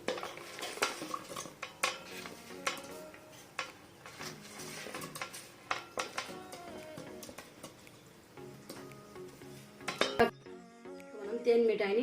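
Fried thene mittai sweets being mixed into honey syrup in a vessel, with repeated clinks and scrapes of a metal spoon against the pot, irregular and close, with background music playing.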